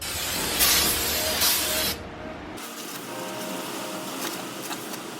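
Cleaner sprayed onto new front brake rotors of a Nissan 350Z/Infiniti G35: two loud, close hissing bursts in the first two seconds, followed by a softer steady background hiss.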